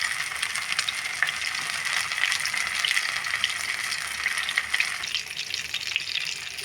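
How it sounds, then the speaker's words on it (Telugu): Fish frying in a pan over a low flame, a steady, close crackling sizzle with bright spitting pops throughout, no voices over it. "సిమ్లో పెట్టి బాగా వేయిస్తున్నానండి"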